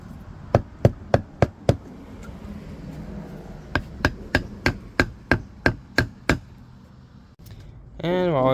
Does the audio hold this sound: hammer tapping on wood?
yes